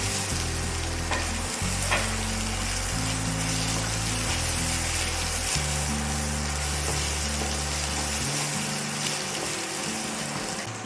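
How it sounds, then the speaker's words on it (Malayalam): Crushed ginger and garlic sautéed with onions in oil for a Kerala crab roast, a continuous close sizzle with light stirring scrapes over a low, shifting background hum, and nobody speaking. "ഇഞ്ചിയും വെളുത്തുള്ളിയും നന്നായിട്ട് വഴറ്റിയിട്ടുണ്ട്"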